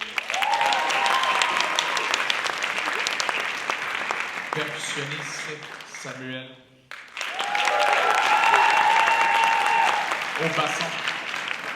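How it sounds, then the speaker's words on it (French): An audience applauds student musicians from an orchestra as they are introduced one by one, sustained clapping that dips briefly midway while a voice announces names over it in French. "on peut l'applaudir."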